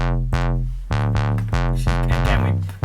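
A mid-range synth line from the Sylenth plugin, bright sawtooth-like notes in a quick rhythmic pattern with sharp attacks and short decays, loud and alone for a few seconds.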